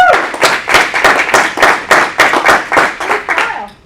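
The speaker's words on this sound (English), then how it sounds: "start with a round of applause for the recognition of the amazing effort that Jenny had at the World Games" Loud, close clapping from a small audience at a board meeting, recognising an athlete's World Games effort, with distinct claps in an uneven rhythm for about four seconds and no talk over it.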